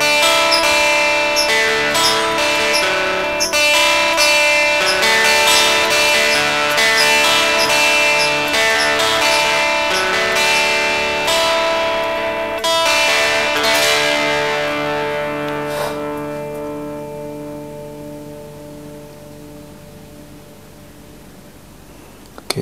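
Electric guitar through a Boss DS-1 distortion pedal with the tone knob set high, picked notes ringing out dense and bright, then a final chord left to sustain and slowly fade, with no talking.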